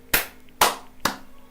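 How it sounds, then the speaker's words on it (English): Four single hand claps, spaced slowly and evenly, close and crisp against a quiet indoor background. "Not me clapping for myself."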